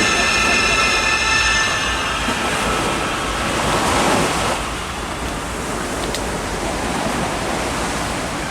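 High-tide sea waves wash onto the east-coast beach at Tanjung Pasir, a steady loud broadband roar of surf close by that eases slightly toward the end.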